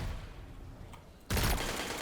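Gunfire in Destiny 2 breaks out suddenly after a quiet stretch, becoming a dense, loud burst of rapid shots.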